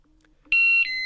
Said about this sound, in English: the smoke detector will beep twice in a descending pitch and stop flashing